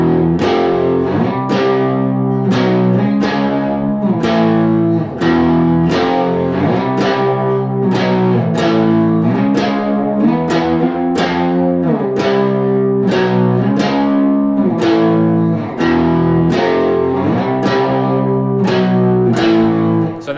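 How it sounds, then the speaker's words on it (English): Distorted electric guitar riff in power chords, root and fifth struck together in a steady, driving rhythm of repeated chord hits, loud and continuous throughout with no voice. "that would sound like this if I played that same riff in power chords"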